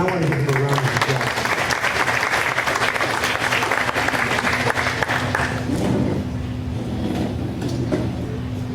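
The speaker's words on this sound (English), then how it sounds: "I want to give him a round of applause" Dense, sustained applause from a faculty and staff assembly audience at SUNY Broome fills the room, holding steady for several seconds before thinning out and tapering off.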